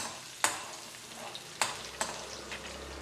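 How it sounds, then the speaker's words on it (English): Garlic roasting in a pan of oil gives a soft steady sizzle, broken by a few sharp scrapes and clinks of a stirring utensil against the pan. "First roast this garlic properly and then you can add rest of the vegetables."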